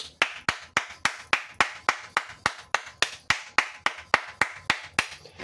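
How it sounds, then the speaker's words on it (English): One person claps steadily and close by at an even, brisk pace, with about twenty sharp hand claps spaced evenly and no talking between them. "I gotta clap, bro."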